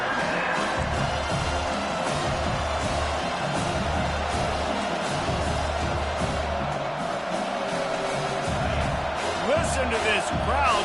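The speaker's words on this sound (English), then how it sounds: "Listen to this crowd just shaking the girders of this place, trying to help their defense." A large NCAA Division I football stadium crowd roars steadily throughout, a loud continuous wall of cheering and noise backing the defense, with a commentator's voice faintly underneath.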